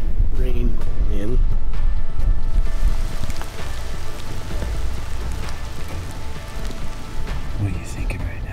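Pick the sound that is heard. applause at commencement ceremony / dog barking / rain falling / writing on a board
rain falling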